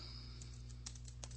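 Keys tapping on a computer keyboard as a place name is typed into a website editor, a short run of light, quiet clicks over a steady low electrical hum.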